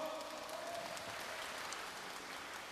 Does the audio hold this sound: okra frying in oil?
no